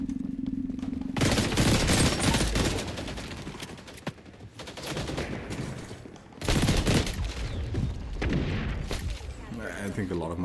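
Gunfire in the video game XDefiant comes as dense, continuous bursts of rapid shots with heavy layered booms, loud and close, with only a short quieter gap midway.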